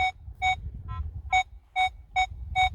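Legend WHP metal detector giving a non-ferrous target signal while searching a field: a series of six or seven clear, short beeps of the same high pitch at an uneven pace, one weaker lower blip among them, over low wind rumble.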